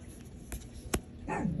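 A dog barks a couple of times indoors, short sharp yelps in an otherwise quiet room, moderately close and fairly faint.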